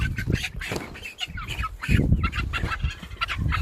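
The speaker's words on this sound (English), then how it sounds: "Now this is a Rhode Island Red." Rhode Island Red hens cluck and squawk in a lively barnyard flock, irregular calls rising and falling close by with ambient rustle and no speech.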